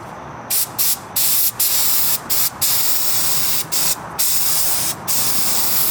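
A paint spray gun test-sprays before painting a Ford F100 truck, with loud, close hissing bursts that start and stop in short irregular pulses.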